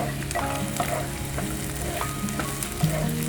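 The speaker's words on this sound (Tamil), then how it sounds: "இதோட ஒரு 12லேருந்து ஒரு 15 பீஸ் முந்திரி பருப்பு, முழு பருப்பு, இதையும் போட்டு நல்லா வதக்கிடுங்க" Dried red chillies and whole cashews sautéing in a pan for butter chicken, a steady close sizzle with soft stirring clicks running throughout, without talk.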